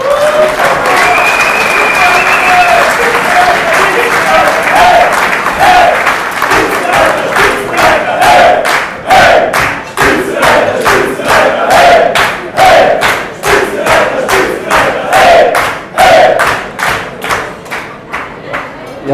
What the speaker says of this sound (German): ich glaube auch da gibt es nochmal einen Applaus